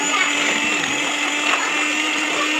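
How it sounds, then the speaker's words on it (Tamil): A blender whipping cream gives a steady, continuous whir with a high motor whine, running loudly and evenly without pause. "இதை வந்து பிளண்டர் வச்சு நல்லா பிளண்ட் பண்ணோம்னா நமக்கு அந்த க்ரீமி டெக்ஸ்டர் வந்து கிடைக்கும்"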